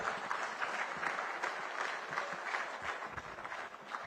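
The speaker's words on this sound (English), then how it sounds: "Can we give a big round of applause to the people of Gambia who have welcomed us" Audience at a foundation conference in Banjul, The Gambia, gives a round of applause: steady, moderately distant clapping with individual claps poking through, continuing without a break.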